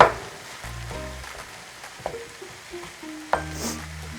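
Vegetable fried rice sizzles steadily in a hot pan, a soft continuous hiss with occasional sharper clicks and clatters of stirring, close and moderately quiet with no talking.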